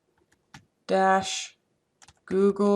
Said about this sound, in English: I'm going to type home-Google